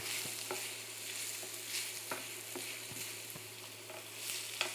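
Celery for a mirepoix sizzles in a pan with a soft, constant hiss, punctuated by regular scraping knocks of stirring roughly every half second, close and fairly quiet with no speech.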